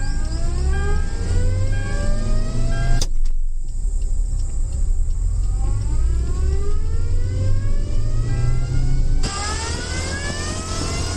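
A car driven in reverse gear at speed, its engine whining and revving steadily with rising, stepping pitch, loud and close for about eleven seconds with a brief dip partway through.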